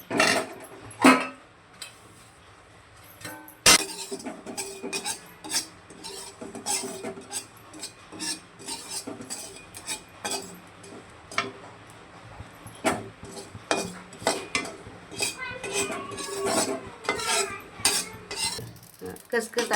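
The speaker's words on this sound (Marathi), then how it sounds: "आता ह्याच्यावर खसखस भाजायची, त्याची खसखस भाजून घ्यायची" Poppy seeds roasting dry without ghee in a pan over already-roasted coconut, stirred with a utensil that scrapes and clinks against the metal in a steady, irregular rhythm up close, with no talk.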